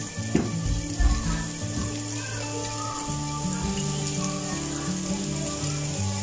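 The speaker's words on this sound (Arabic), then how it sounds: "ونبدا كنشحر فيهم" Diced onions and minced garlic sauté in a pan with a steady sizzle. A few louder clatters come near the start, and faint background tones play underneath.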